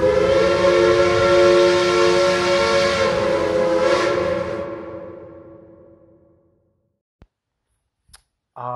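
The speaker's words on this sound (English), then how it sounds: "That train whistle." A loud, sustained train whistle blows as one long chord, then fades away into near silence, followed by a couple of faint clicks.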